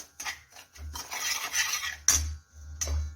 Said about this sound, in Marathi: यामध्येच टाकून घेऊया आमचूर पावडर याने अशी छान अशी चव येते सर्व मिक्स करून घेऊया